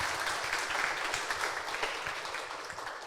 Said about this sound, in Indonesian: Tepuk tangan dong buat Reva.